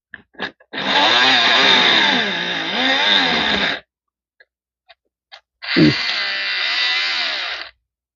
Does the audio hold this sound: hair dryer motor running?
yes